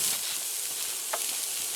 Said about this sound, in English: we're going to saute those toppings here